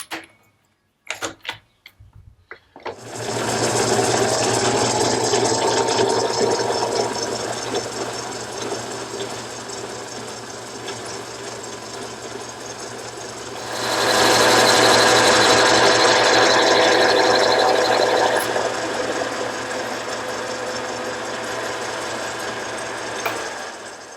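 A metal lathe takes a cleanup pass over the outside of a bronze part, giving a continuous whirring, grinding drone that swells louder for a few seconds partway through, after a few short clicks as it starts.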